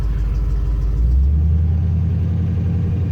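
A 1974 Ford truck's roller 5.0 V8 engine runs steadily on a cold winter day with a deep, loud rumble, rising slightly in the middle as it is held at higher revs.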